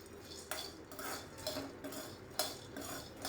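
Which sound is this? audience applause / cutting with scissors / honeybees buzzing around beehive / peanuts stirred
peanuts stirred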